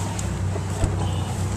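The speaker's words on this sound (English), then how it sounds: "We're idling outside of the 5-mile-an-hour zone right now." A 2014 Starweld 2000 Pro fishing boat's outboard engine idles on the water with a low, steady drone, heard up close under a faint breath of wind.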